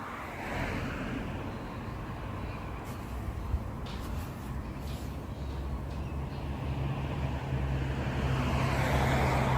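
A Transperth bus turns right at a roundabout, its engine and road noise forming a steady, fairly close rumble that swells slightly toward the end.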